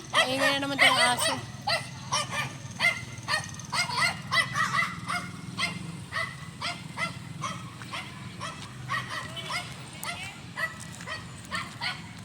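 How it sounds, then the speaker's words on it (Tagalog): Dog barking loudly and repeatedly outdoors at a home, a close, insistent string of barks and yips with a few whimpers, continuing in a steady rhythm as the barks gradually soften. "Maingay na naman itong aso."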